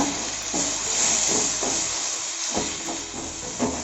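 Tomatoes and onions sautéing in a pan with salt give off a steady, close hiss of sizzling, with faint scraping touches and no talk.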